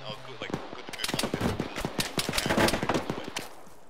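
Rapid bursts of gunfire crackle from a house in the military game Arma during a ShackTac squad mission, dense cracks at medium loudness with voices talking over them.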